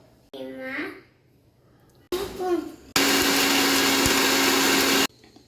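A voice speaks briefly twice, then a mixer grinder grinding pistachios and cardamom roars on loudly and steadily for about two seconds before cutting off abruptly.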